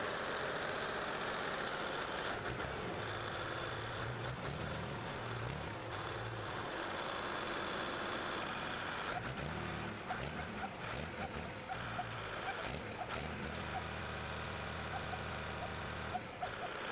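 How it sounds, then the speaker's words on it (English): A vintage Zvezda M50 V12 diesel engine of 63 liters runs with a steady, dense roar and a low, knocking throb that holds at even loudness throughout. "This is the Zvezda M50 V12, a 63-liter Titan."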